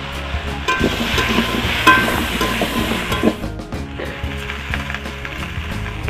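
Turmeric fries in a pan while being stirred, making a continuous close sizzle with wooden scraping and clacking strokes. The sizzle fades somewhat in the second half.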